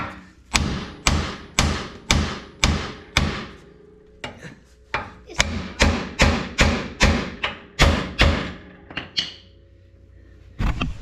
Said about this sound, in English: then we're gonna hit it with a hammer